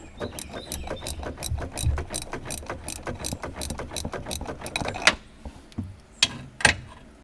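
A ratchet removes 3/4-inch nuts from the cab of a Bobcat S300 skid-steer loader, clicking rapidly in a close, steady run. It then slows to a few separate clicks and knocks, with no talking.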